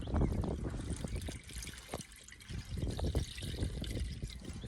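Water drains out of a 1946 Chevy boom truck engine that sat for 35 years, an uneven trickle and splatter of pouring liquid, close and fairly faint, with irregular splashes.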